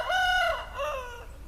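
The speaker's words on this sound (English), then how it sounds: "Silly chickens." A single hen gives two drawn-out, rising clucking calls, close and clear, with nothing else around them.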